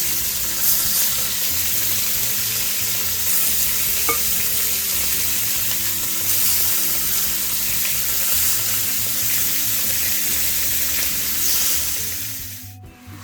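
Pork sears and fries in a pot for Jamaican brown stew pork, giving a steady loud sizzle with soft stirring scrapes that runs throughout and cuts off at the very end.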